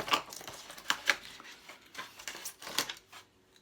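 A blade cutting open the tape that holds parts down inside a Hornby Timber Depot model kit box, heard as a few close, sharp scratchy slices and small plastic knocks in a quiet room.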